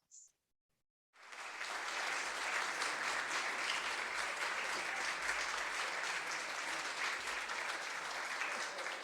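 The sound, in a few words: applause for local businesses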